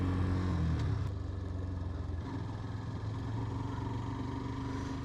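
A Hero Xtreme 125R motorcycle engine idles with a steady low-pitched throb after being switched on, close and continuous, with a slight dip in level near the start and no voices.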